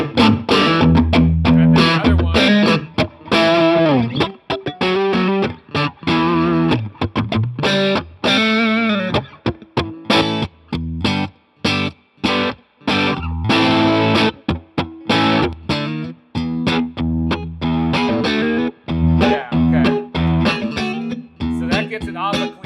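Electric guitar played through a T-Rex Mud Honey II overdrive pedal, crunchy distorted chords and riffs with short pauses between phrases, loud and up front.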